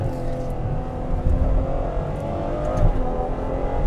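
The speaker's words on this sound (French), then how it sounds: "Là la sonorité du V12" Ferrari 812 Superfast with its V12 engine, heard as a steady, loud mechanical drone with a rich low rumble that swells slightly toward the end while driving, without any talk.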